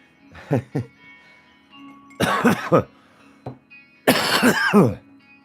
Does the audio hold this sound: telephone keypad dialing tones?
no